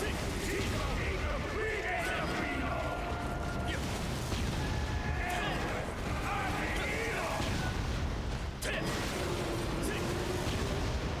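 Mortar explosions sound in the video game Soul Sacrifice, steady booming battle noise with dense effects that stay loud throughout.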